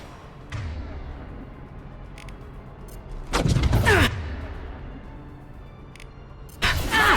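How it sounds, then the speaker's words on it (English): Intermittent gunfire in a Mass Effect 2 firefight, with a dense loud burst near the middle and another at the end, separated by quieter stretches of background combat ambience. "Under heavy fire!"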